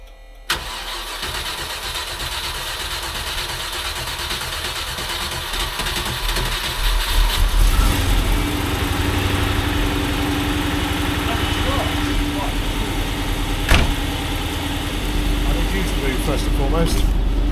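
A 1989 Range Rover Vogue SE engine cranks and catches about seven seconds in, then settles into a steady, loud idle that runs on to the end with a sharp knock near fourteen seconds; voices speak briefly over it.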